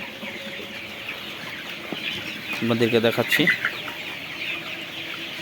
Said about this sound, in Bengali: brown cock